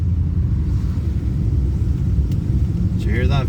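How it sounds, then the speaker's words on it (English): A deep, rumbling 3.5-litre V8 engine of a Rover P5B coupe idles and thrums steadily at close range on a wet day, with a brief voice at the very end. "Did you hear that V8? Isn't it lovely?"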